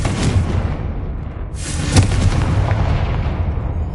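A fire spell explodes in the Hogwarts Legacy game with a booming blast and a sharp crack, followed by a sustained rumbling roar that slowly fades.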